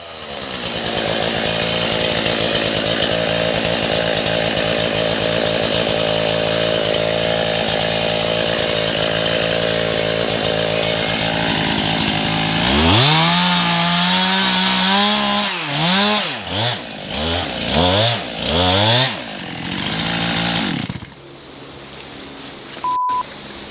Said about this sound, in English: I got my chainsaw unstuck, and then back to cutting again.